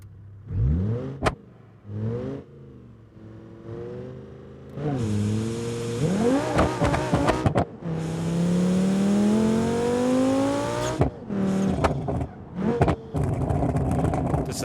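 An ETK I5 in BeamNG.drive revs hard at launch, the simulated engine climbing through rising pitch sweeps with brief gaps between pulls, loud and close throughout.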